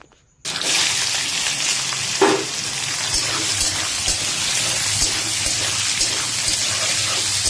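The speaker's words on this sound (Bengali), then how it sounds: "এদিকে তো আলুটা ভাজা চলছে" Diced potato pieces fry in hot oil with a steady, close sizzle and crackle that starts abruptly and continues without pause.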